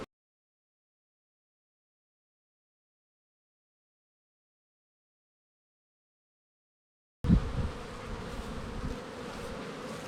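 Honey bee colony buzzing during a hive inspection where queen cells are being checked, a dense steady hum that cuts in abruptly after a long silent stretch and continues at moderate level to the end.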